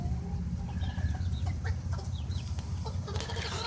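A flock of chickens, including young roosters, clucks and chirps in short overlapping calls over a constant low hum, with a brief rustle near the end.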